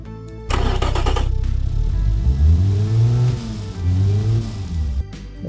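A Ford Model T-style engine in the Automation car game revs loudly and steadily, its pitch sweeping up and down in smooth waves after a sharp start, with no talking over it.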